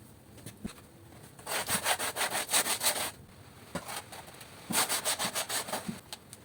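A wooden shelf is sanded by hand with sandpaper in two bursts of quick, rhythmic back-and-forth scrubbing strokes, close and fairly loud, separated by a brief pause with a few light knocks.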